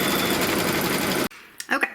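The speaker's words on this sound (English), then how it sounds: "start the machine again, and what it's going to stitch now is going to be actually the seam line" A Kimberbell embroidery machine runs fast and steady as it stitches a seam line, a dense mechanical whir that cuts off abruptly, followed by a few brief clicks and handling noises.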